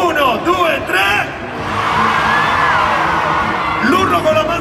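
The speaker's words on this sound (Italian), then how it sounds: "Quindi dovete urlare solo voi. 1, 2, 3." An audience at the Romics convention in Italy shouts together on cue after a count of three, a loud sustained crowd roar in the middle framed by voices and cheering at either end.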